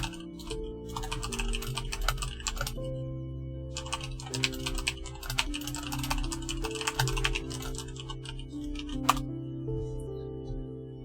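Keys clatter on a computer keyboard in quick bursts of typing, close and fairly quiet, with a steady low hum and brief pauses between runs.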